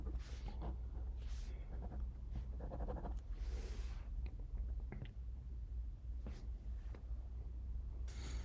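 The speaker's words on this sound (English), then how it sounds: "I'm just working out some details on paper." Pen writing on paper while working out details during a coding contest, heard as scratchy, intermittent strokes of varying length over a low steady room hum, close and fairly quiet.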